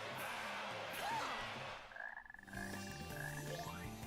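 Frogs croak in the Sonic Heroes video game, a repeated low croaking over game music and background effects, steady and fairly loud throughout.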